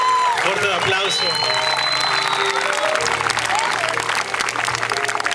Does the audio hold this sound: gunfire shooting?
no